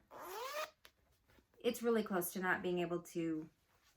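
A zipper is pulled in quick rasping strokes, a short first pull then a longer series of zips, close by.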